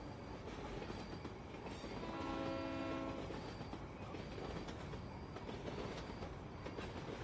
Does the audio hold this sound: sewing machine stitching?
no